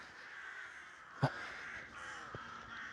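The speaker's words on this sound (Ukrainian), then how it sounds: "Ворони підтверджують мої слова." Crows caw outdoors against a steady hum of background noise, one sharp loud call followed later by a fainter, shorter one.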